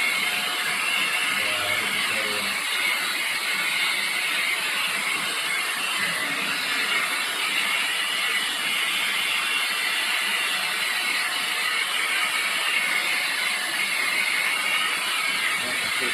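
A JB-107 mini vacuum cleaner runs in blower mode, pushing out a continuous high-pitched airy whir that stays steady and close throughout.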